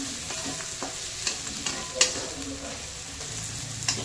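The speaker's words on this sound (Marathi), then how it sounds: "इथे आपली कांदा शिमला व्यवस्थित परतत आलेला आहे" Onion and capsicum sautéing in a pan for soybean chilli, a steady close sizzle broken by occasional scraping clicks from the stirring spoon.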